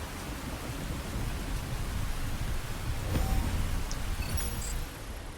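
Heavy rain hisses steadily in the Phantom Brigade video game while a low thunder rumble swells midway, faint and distant, before the downpour settles back to a constant wash.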